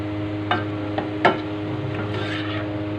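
A pot of salmon belly sinigang is stirred with a utensil, giving three distinct scraping strokes close by, followed by a softer, longer scrape over a low steady hum.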